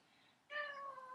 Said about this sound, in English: And then here comes a cat.